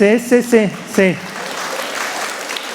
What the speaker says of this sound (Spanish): dando ese aplauso